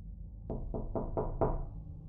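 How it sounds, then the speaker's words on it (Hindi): Knocking on a house door late on a January night: five firm raps in a steady, slightly quickening rhythm, close and clear with no voices. "जब एक रात अचानक घर के दरवाजे पर दस्तक हुई।"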